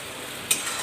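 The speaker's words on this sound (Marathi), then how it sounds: "आपल्याला गुळाला लागू द्यायचं नाही आहे, हलवत राहायचं" Jaggery syrup being stirred in a pan while making kohala bond, a soft bubbling hiss with one brief scrape of the spoon midway.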